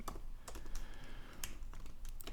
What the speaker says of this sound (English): I need to type div right